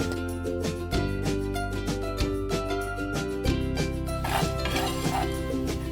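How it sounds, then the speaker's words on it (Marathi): Fennel, black pepper, turmeric and salt are dry roasted in a pan, heard as close metallic scraping and clinking of a spoon against the pan in a loose, irregular rhythm, with no one speaking. "हे सगळे मसाले आपण ड्राय रोस्ट करून घ्यायचे"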